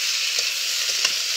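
Bitter gourd, onion and green chilli are stir-fried with salt in a pan. The sizzle is continuous and close, broken by a few short scraping stirs.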